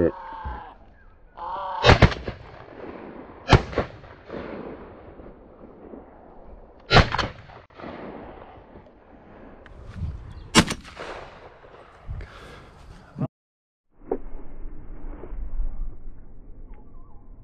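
Shotgun shots during a crow hunt ring out as several loud, sharp blasts spaced a few seconds apart, with quieter handling knocks and rustling in between.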